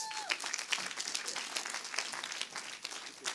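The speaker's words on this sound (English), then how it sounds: "A round of applause." An audience breaks into steady applause, many hands clapping in a dense patter that holds at moderate loudness from start to finish.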